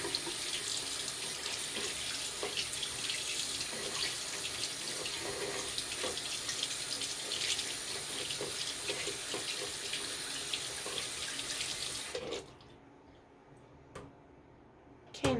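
A bathroom tap runs steadily to rinse off a face-care product, a continuous hiss of water into the sink for about twelve seconds before it shuts off, leaving near silence and a faint clatter at the end.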